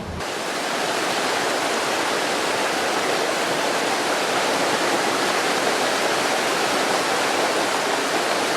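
A mountain valley stream rushes through a deep gorge between cliffs, a steady, dense broadband roar of clear flowing water, close and continuous throughout with no talk.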